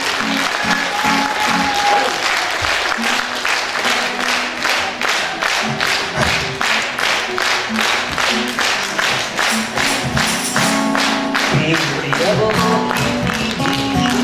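A concert audience at a jubilee performance by a folk vocal ensemble claps loudly and continuously in a dense, rhythmic wave of applause, with faint talk near the end.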